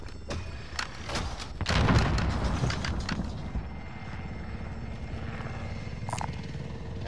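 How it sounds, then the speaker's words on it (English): An attack helicopter in the video game Warzone whirs with a rotor drone, joined by a few heavy thumps and booms early on before the noise settles into a steadier, quieter hum. "Hostile attack chopper carrying cash."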